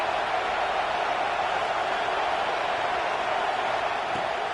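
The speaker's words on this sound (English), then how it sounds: "Big third down as the crowd gets behind this defense." A football stadium crowd at an Oregon vs Clemson game roars steadily behind the defense on a big third down, a dense and unbroken wash of noise that fills the whole few seconds.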